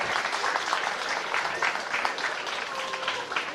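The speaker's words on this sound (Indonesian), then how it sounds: "Tepuk tangan." A school audience at an anti-narcotics education event applauds in a dense, sustained wash of clapping that fills the room for a few seconds, steady and fairly loud.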